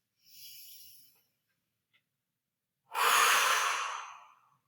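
Two slow breaths during a restorative yoga exercise: a softer airy breath first, a pause, then a longer, louder exhale blown out through the mouth as if blowing out a candle, close and alone.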